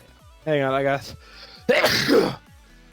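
A single sudden, fairly loud sneeze bursts out close to the microphone during a live esports knockout match broadcast, coming right after a brief stretch of commentator talk.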